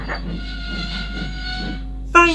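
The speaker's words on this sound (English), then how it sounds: "Thomas whistled as he approached the station." Thomas the Tank Engine gives a short whistle as he approaches a station, a sharp burst at the very end after a steady rumble of the moving engine.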